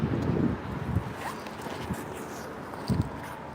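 Gusty wind buffets the microphone on a city street along 5th Avenue in New York, a low rumbling roar with a few brief thumps, fairly faint overall.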